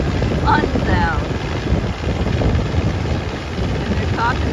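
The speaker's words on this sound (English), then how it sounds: "Planes pulling their banners." Propeller planes towing banners drone overhead at a beach, a loud and steady engine rumble that fills the whole stretch, with faint voices mixed in.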